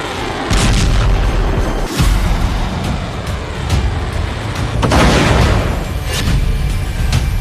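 Explosions in Tehran during Israeli strikes on Iran: loud booming blasts with several sharp bursts standing out over a continuous rumbling city and traffic background, no voices.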